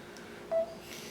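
A phone gives a single short electronic beep as its volume is turned down, quiet and near in an otherwise still room.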